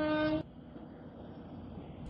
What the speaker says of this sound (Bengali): ট্রেন সবেমাত্র স্টেশন ছেড়েছে।